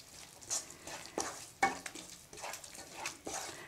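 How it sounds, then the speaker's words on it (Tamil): A spoon stirs masala spices into paneer gravy in a pan, giving repeated scraping and stirring strokes with a light sizzle and occasional clinks against the pan, close and fairly quiet, with no voices. "மசாலா போட்டு நல்லா மிக்ஸ் பண்ணி விட்டுருங்க."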